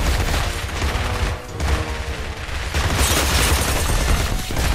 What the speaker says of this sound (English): the player's shooting the hell out of some shelves